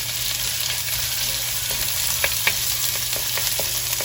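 Onion, ginger, garlic and curry leaves fry in hot oil for a Kerala chammanthi podi, a steady close sizzle with a few light stirring clicks and scrapes, alone without voices.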